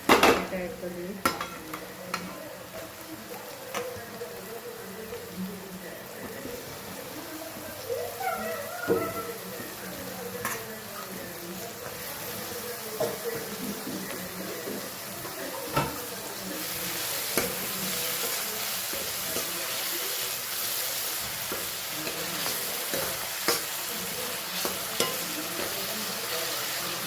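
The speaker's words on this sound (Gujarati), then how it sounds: "હવે આપણે એમાં ટામેટાં એડ કરી દઈએ." Tomatoes go into onions frying in a pan and get stirred, bringing a soft sizzle with repeated scraping and clinks of a spoon against the pan, under intermittent talk in the background.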